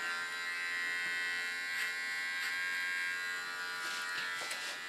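Small electric hair clipper buzzing steadily and close while trimming hair lines on a short pixie cut, a continuous high whine with slight changes as the blades touch hair, no talking.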